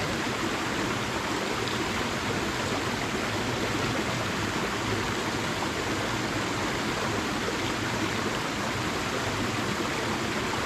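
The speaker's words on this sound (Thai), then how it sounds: "น้ำไหล" A forest stream flows steadily close by, a dense, continuous rushing of water that holds an even level throughout with no pauses and no voices.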